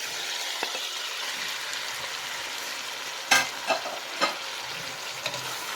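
Beef and onions sautéing in a pan for beef asado, with a constant close sizzle and a few louder scraping stirs partway through, and no one speaking.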